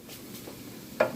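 Garlic and cumin stirred in a hot pan while cooking Spanish rice: a soft, steady sizzle under scraping strokes, ending in a sharp utensil knock against the pan.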